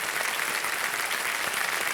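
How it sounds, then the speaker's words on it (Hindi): Studio audience on a TV quiz show applauding a contestant, steady broadband clapping from a large crowd, even and sustained throughout without any talk. "तालियां बज जाएं एक बार फिर से उनके लिए।"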